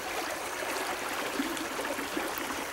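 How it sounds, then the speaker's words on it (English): A creek with ice along its edges flows through a wooded marshy area, making a steady broadband rush and trickle of water, close and continuous, with no voices. "Looking down at the creek here,"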